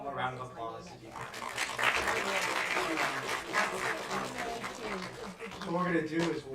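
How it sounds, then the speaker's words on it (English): An audience at an opening ceremony claps steadily throughout, dense and fairly close, with voices mixed in underneath. "applause if you can."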